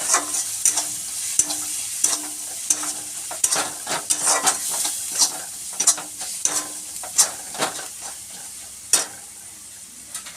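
Spices for soybean keema with peas stirred and fried in a pan over low gas: a steady soft sizzle with repeated scraping and clinking of a spoon against the pan, close up, with no talking.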